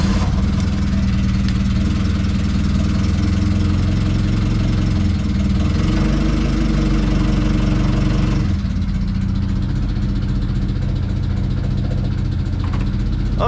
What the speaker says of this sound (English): so I want to start the forklift back up here